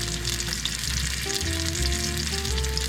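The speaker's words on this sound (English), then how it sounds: "dip them in that fat, add a bit more oil if needed, and cook what is essentially like a round chip" Thin potato slices frying in fat while cooking in a parked car, a steady close sizzle with soft crackles, over a low tonal engine-like drone, and no talking.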